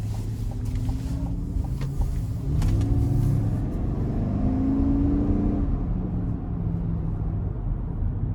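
A 2022 GMC Yukon SLT with the 5.3 liter engine accelerates on the road, its engine note rising steadily over a deep rumble of road and wind noise from inside the cabin.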